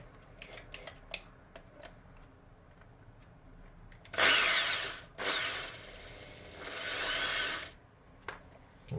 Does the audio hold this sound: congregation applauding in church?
no